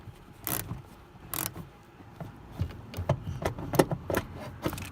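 Tools work on a seat belt bolt under the carpet of a 2018 Nissan Kicks, making scattered metallic clicks, clinks and rattles. The sounds are close and irregular, and the last half is busier.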